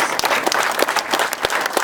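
A crowd at an outdoor ferry launch ceremony for the Keller Ferry Sanpoil claps briskly and steadily, the individual claps distinct and close.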